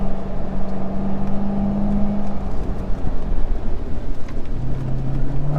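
A C7 Corvette Z06 with an eight-speed paddle-shift automatic cruises a mountain road, a steady engine drone with shifting tones heard from inside the car, with no talk.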